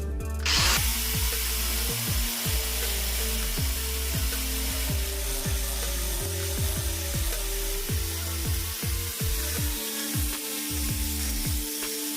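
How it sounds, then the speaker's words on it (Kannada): A power drill bores into the wall while a wash basin is fitted in a dining hall. It runs with a loud, steady whine, and rapid repeated revving pulses sound over a constant rough grinding noise. "ಈಗ ಸ್ವಲ್ಪ ಲಾಂಗ್ ಬೇಕು ಅನ್ನೋದ್ರಿಂದ ನಾವು ಡ್ರಿಲ್ ಹಾಕೋದು"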